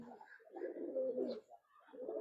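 Pigeons in a loft give soft, low, rolling coos in two or three phrases with short gaps, faint but close.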